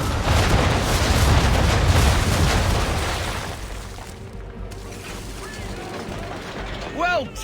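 Ship cannons in Assassin's Creed III fire a broadside of round shot, a loud dense rumbling volley of booms that fades into a quieter tail with brief voices near the end.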